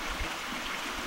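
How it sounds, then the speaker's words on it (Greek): Water flows steadily outdoors in a garden setting, a continuous even rush and trickle with no voices. "Βρισκόμαστε έξω, σε υπέροχο χώρο, με πολύ ωραίους ήχους νερού"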